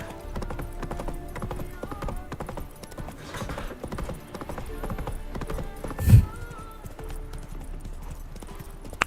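Roach the horse's hooves clip-clop steadily in The Witcher 3, a continuous trotting rhythm with one louder thump near the end and faint game sounds underneath.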